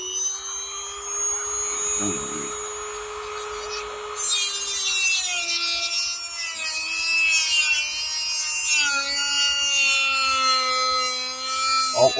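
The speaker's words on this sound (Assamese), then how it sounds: "এইটো কাটিং কৰিম" A blade cutting into agarwood (sanchi tree) wood gives a steady, continuous rasping grind with a sustained high whine running throughout, close and fairly loud, with no talk.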